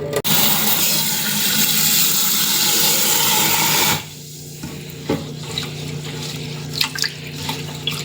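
Rinse water being poured out of a pot of washed white rice, a continuous splashing stream for about four seconds, then stopping and leaving only scattered faint drips and small kitchen clatters.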